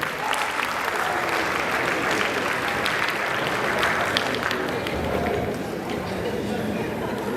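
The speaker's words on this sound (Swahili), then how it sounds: "Wapigeni makofi tafadhali" Audience applause fills a Nairobi film and digital arts programme event, steady dense clapping held throughout at close range, with crowd voices mixed into it.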